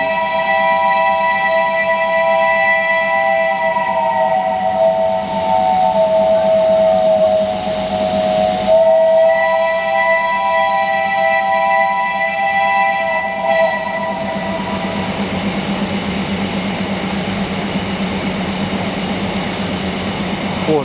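A long, loud steam locomotive whistle on a century-old engine holds a steady harmonic tone for about twenty seconds, dipping briefly in pitch midway, over a low engine rumble.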